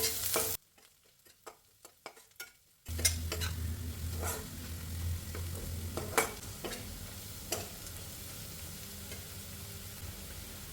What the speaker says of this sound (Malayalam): ഉള്ളി ഒന്നും കൂടി ഒന്ന് വാടിക്കോട്ടെ കേട്ടോ